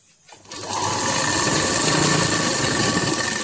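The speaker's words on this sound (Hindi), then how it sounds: "इस तरह ऊपर से हम सिलाई लगाएंगे।" A sewing machine starts and runs continuously, stitching a salwar; the close, steady whirring motor and needle clatter build within half a second and hold loudly to the end.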